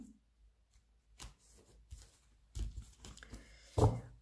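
Lenormand oracle cards shuffled by hand for a reading, sparse soft riffles and slaps that build to a louder flurry near the end, close up and quiet, with no talking.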